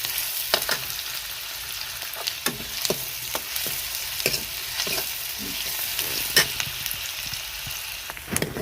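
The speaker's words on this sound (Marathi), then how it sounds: "कांदा परतून घेते मी." Chopped onion sautés in a pan on a wood-fired stove, giving a steady sizzle broken by a series of scraping stirs as a spoon moves through it. No one speaks.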